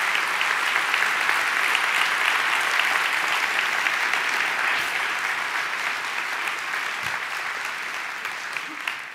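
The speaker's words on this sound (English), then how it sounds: "please stand so that we can give you a strong round of applause" Sustained, dense applause from an audience honouring Todd and Alicia Taylor, steady and loud for the whole stretch and tapering only slightly toward the end.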